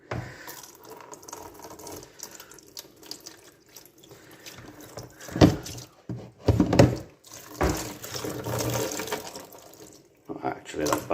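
Dirty water from cleaned car seats of a Wartburg 1.3 splashes and pours out in a few short bursts, fairly close, with quieter trickling between them.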